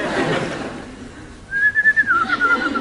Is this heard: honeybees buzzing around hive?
no